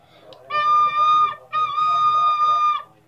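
A recorder plays two steady, sustained notes of about a second each, with a brief break between them, close and fairly loud.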